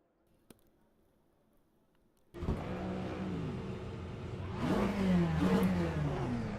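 After a brief quiet moment, a race car engine in the Le Mans Ultimate racing game starts up and revs, climbing in pitch as the car pulls away and accelerates, loud and continuous.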